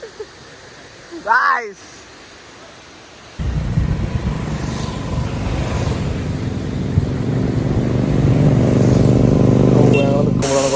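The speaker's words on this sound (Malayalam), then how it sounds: "bike Riders" Motorcycles roar steadily past at close range, a loud continuous engine rumble building over several seconds, with a brief high whine near the start.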